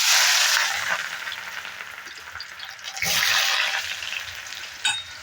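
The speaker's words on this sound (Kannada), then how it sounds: "ಈರುಳ್ಳಿನ ಫ್ರೈ ಮಾಡ್ಕೊತಾ ಇದೀವಿ" Onions hit hot oil with a loud, bright sizzle that settles into a steady crackling hiss, then surges again as they are stirred, with a small clink near the end.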